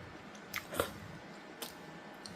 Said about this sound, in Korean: 제가 한번 먹어보겠습니다.